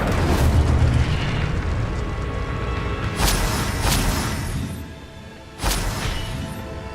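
An Incendio fire spell cast in Hogwarts Legacy erupts in a loud, roaring whoosh, followed by several sharp bursts and booming impacts spaced a couple of seconds apart, with no talking over it.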